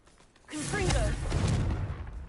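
A fiery Confringo blasting spell bursts out in Hogwarts Legacy, a loud, sustained explosive roar that swells suddenly and rumbles for nearly two seconds while a voice shouts over it.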